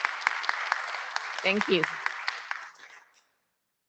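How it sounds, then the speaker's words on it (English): Round of applause from an audience at an IETF working-group meeting for the session chairs, steady clapping for about three seconds that fades out, with a brief spoken thank-you over it. "if you want to give them a round of applause, I'd appreciate that"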